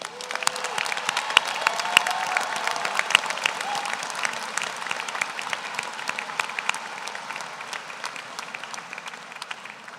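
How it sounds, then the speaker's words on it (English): Sustained audience applause fills a medical school commencement ceremony, dense steady clapping from a large crowd holding at an even level throughout with a few sharper claps standing out. "Let's give a round of applause in recognition of these public servants"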